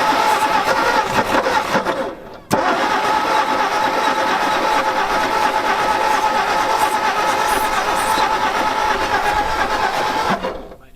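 An abandoned panel truck engine left unused for forty years is choked, then runs in a loud, steady, rough drone. A short cut-out comes just after two seconds before it picks up again and keeps going until it stops near the end.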